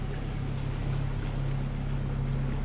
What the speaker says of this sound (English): I've still got the engine going just above an idle pace.